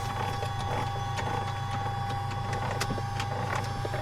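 Electric trim actuator on a Mitsubishi MU-2 turboprop driving roll trim back to center, a faint clicking whir over a constant low mechanical hum, with no speech.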